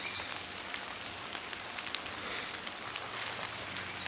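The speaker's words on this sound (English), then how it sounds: "so far the rain hasn't been too bad overall" Rain falls outdoors at a nature center, a soft continuous hiss with scattered small drop taps, faint and steady throughout.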